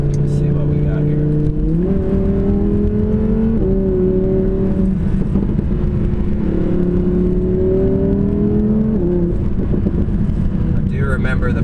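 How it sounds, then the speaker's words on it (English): An Audi R8 V10 Plus accelerating in dynamic mode with manual shifting and the exhaust open, its engine note climbing loudly through several gears with audible shift steps, heard from inside the car and sustained throughout. "Exhaust on, it's in dynamic mode and manual shift."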